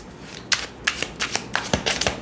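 A deck of tarot cards is shuffled by hand, a quick series of crisp riffling bursts at close range with no talk.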